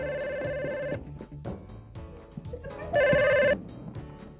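A telephone in a home rings in two bursts of bright, repeating electronic trills, clear and near, with a short gap between them.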